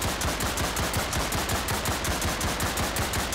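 A Tommy gun in a Roblox game fires in rapid sustained bursts, a dense, regular rattle of shots that stays loud and constant with no talking over it.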